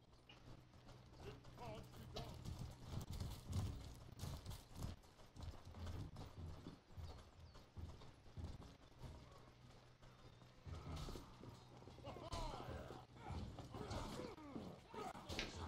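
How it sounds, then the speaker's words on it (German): Horse hooves clip-clop steadily through the dense, clattering din of a Mordhau medieval melee battle, with mechanical rattles mixed in and no voice over it. "Da ist ein Pferd oben."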